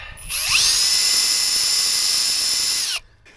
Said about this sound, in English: this butyl will probably be sacrificed, and we'll just drill through